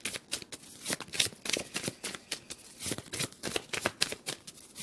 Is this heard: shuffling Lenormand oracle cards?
yes